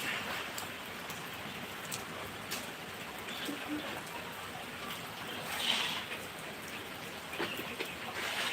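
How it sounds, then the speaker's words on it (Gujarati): Rain falls steadily in a village, a soft continuous patter with occasional louder drops and a faint bird call. "વરસાદ ચાલુ છે"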